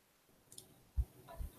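A few soft computer mouse clicks, close and quiet, in a near-silent room: a faint tick, then two slightly stronger clicks about half a second apart.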